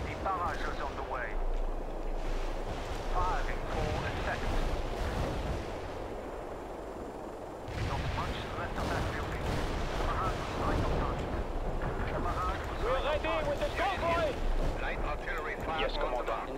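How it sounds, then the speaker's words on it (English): Artillery barrage in the real-time strategy game World in Conflict: continuous booming and rumbling fire with scattered blasts, layered under game radio voices speaking throughout. "Fire is here, Commandant. We have the fire itself. The barrage is on the way."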